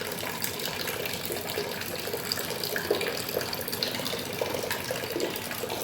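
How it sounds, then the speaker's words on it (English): Steady rushing flow of water streams from the outlets of a water ionizer machine, alkaline water from one spout and acidic water from a small second one, continuous and moderately loud with no talk. "Alkaline water will be coming from here, and the acidic water you can see it is coming from this small water"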